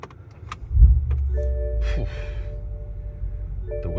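A BMW F10 M5 V8 engine cranks and fires up close by with a deep thud, then settles into a loud, steady low rumble that eases slightly toward the end, with faint whine and clicks over it.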